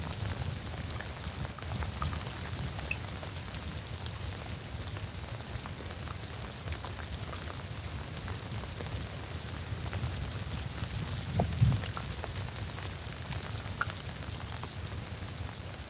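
Steady rain falls during a storm at a freshwater carp fishing spot, a continuous even patter with a low rumbling bed and a few slightly louder drops near the middle.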